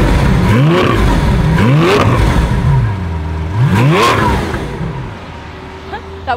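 Lamborghini Veneno hypercar in sport mode revved while parked, several sharp rising engine swells up to a loud howl then dropping back, heard close and loud, the idle rumble fading toward the end.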